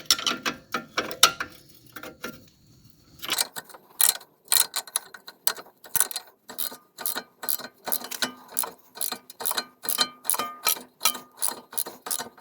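A 21 mm 12-point wrench ratchets loose the strut nut on a 2012-or-later Mercedes-Benz Airmatic air spring, giving a long run of sharp, evenly spaced clicks close by, steady and fairly loud, with no voices.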